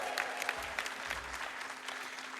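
A live audience at a speedrunning charity marathon claps and cheers after a donation is read, a short burst of scattered applause at moderate level with a sharp whoop near the start.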